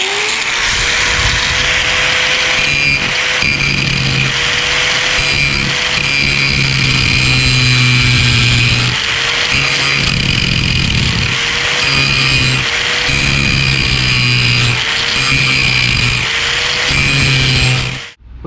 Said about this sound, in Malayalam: അപ്പം നമുക്ക് ഇതൊന്ന് ഗ്രൈൻഡ് ചെയ്യാം.